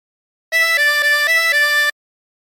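Harmonica tones playing a phrase of the folk tune Turkey in the Straw, five bright reedy notes in a steady even rhythm, close and loud, with no voices.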